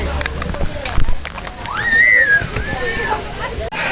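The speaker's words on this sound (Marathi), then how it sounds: "आता बघा वेब पूल चालू झालाय आणि याचे लाटा आहेत ना, एवढ्या जोरात लागतायत ना." Waves in a water park wave pool slosh and splash nearby, with noisy water movement throughout and children's voices and shouts rising over it.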